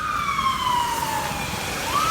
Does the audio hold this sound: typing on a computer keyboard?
no